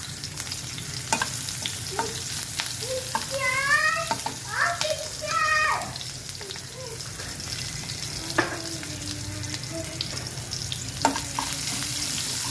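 Onions fry in a pan with panch phoron and bay leaf while the spatula stirs and scrapes against the metal under a steady sizzle, with a voice and other voices chattering over it.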